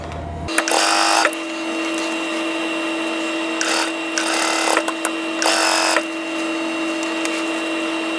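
A sewing machine stitches quilt block pieces together in loud, close bursts of rapid mechanical clatter over a constant motor hum, with short pauses between runs.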